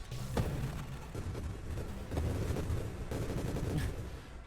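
Grenades in the space shooter Nova Drift burst in a quick, uneven string of soft thumping detonations, faint and fairly distant, continuing for several seconds without talk.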